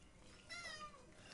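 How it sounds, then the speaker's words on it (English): A pet cat, an older female, gives a faint, short meow indoors in a bedroom, heard once against quiet room noise with no talking. "You might hear her meowing every now and then."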